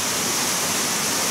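A small waterfall on a mountain headwater stream, a steady dense roar of falling water that fills the whole moment, close and loud with no voices.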